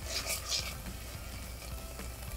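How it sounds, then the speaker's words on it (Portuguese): Garlic sautéing in a pan for lemon fettuccine, a soft, low sizzle close by with a few brighter crackles early on, fairly quiet throughout. "o alho vai refogar um pouquinho"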